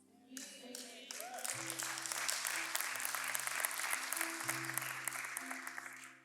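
A church congregation applauds, a dense wash of clapping swelling in after a moment and holding steady for several seconds over a low organ or keyboard drone, then tapering off.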